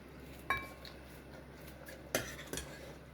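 Dalma, an Odia lentil and vegetable stew, is ladled from its pot into a serving bowl, giving three light metallic clinks over a quiet room, with no talking.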